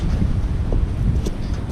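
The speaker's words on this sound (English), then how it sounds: "It's kind of windy today." Steady outdoor wind buffeting the microphone on a breezy day, a continuous low rumbling roar with gusty fluctuations and no talking.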